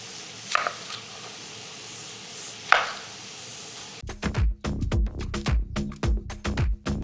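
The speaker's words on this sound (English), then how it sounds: "get our onion out, and start chopping it" A knife chops an onion rapidly on a cutting board, a quick irregular series of sharp close knocks, preceded by a couple of isolated taps.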